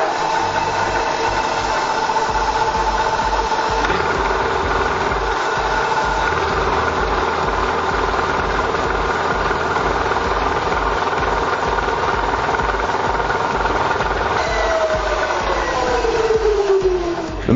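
A manual milling machine runs steadily with a loud, continuous mechanical drone and a faint whine, rising in pitch and gliding near the end.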